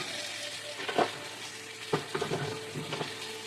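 Steady frying sizzle of a ribeye steak on a hot plate, with a few sharp crackles and pops, close up, no talking.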